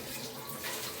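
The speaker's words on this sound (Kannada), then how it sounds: "ಒಂದು ಲಟ್ಟ ನೀರು ಕೊಡು" Water is poured into a frying fish masala for pomfret, a brief, faint, splashing trickle without any voices.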